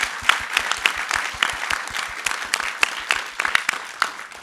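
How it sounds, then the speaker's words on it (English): An audience at an iOS developer conference applauds for a speaker, a lively round of clapping from a moderate-sized crowd with sharp individual claps audible throughout. "let's do one round of applause for Matthew as well"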